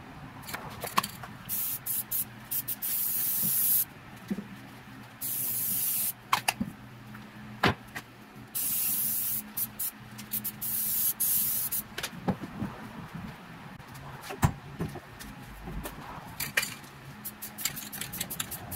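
Rust-Oleum spray paint hisses from a can onto a homemade outdoor fire poker, in a series of close, sharp bursts, some short and some lasting about a second, with faint handling clatter between them.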